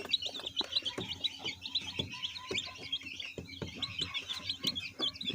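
Japanese Sahmu chicks chirp in a rapid, continuous chorus of high tweets, close by, with scattered soft knocks and thumps underneath and no talk.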